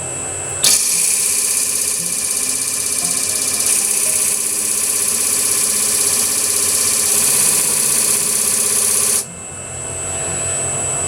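A gem cutting machine grinds a hard ruby, its steady high-pitched abrasive whine starting abruptly, holding loud and even for about eight seconds, then cutting off, with a quieter motor hum before and after.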